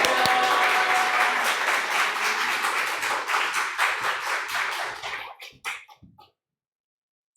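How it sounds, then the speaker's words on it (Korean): An audience at a church anniversary gathering gives sustained, thick applause that holds steady for several seconds, then thins into scattered claps and fades to silence. "큰 박수로 환영하겠습니다"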